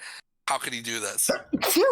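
A single sharp sneeze bursts out in the middle of a person's speech, close and loud, with talking right before and after it.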